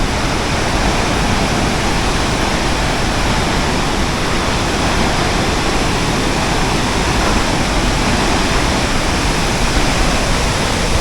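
A loud, steady roar of rushing water from Kapas Biru waterfall in Wonojiwo, Lumajang, a constant full hiss that never lets up, with no voices.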